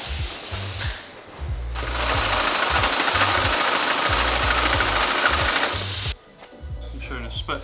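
Giant pneumatic sewing machines stitch sail panels in a loud rapid mechanical chatter, with a long burst of steady hissing air and rhythmic thumping from the machinery underneath.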